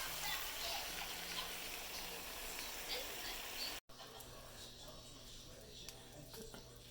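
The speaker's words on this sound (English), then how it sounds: "I rinsed my wok out and wiped it out" Water rushes steadily into a wok as it is rinsed out in a home kitchen, a soft continuous gush that breaks off briefly midway and then carries on more quietly.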